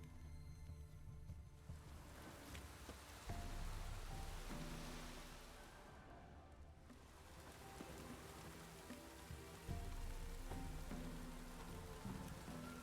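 Steady, dense video game rainfall in Witcher 3 patters continuously on surfaces, a broad wash of hiss with soft low rumbles underneath and no voices.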